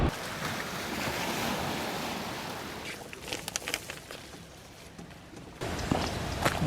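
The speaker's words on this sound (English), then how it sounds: "We'll get a bow wave from it in a minute, hitting the shore." A bow wave pushed up by a passing river barge washes against the riverbank, a continuous broad wash of water with wind buffeting the microphone, and a few sharper splashes late on.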